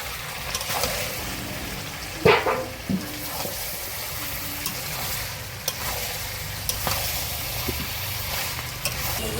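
Mutton curry frying in oil, village style, with potatoes added. A steady close sizzle is broken by a few sharp clatters and splashes as the pieces drop in and get stirred.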